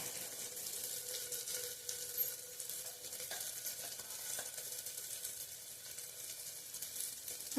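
Dal tadka masala sizzles in a pot while being sautéed, a faint, steady hiss of frying with occasional soft stirring taps, heard close with no voices.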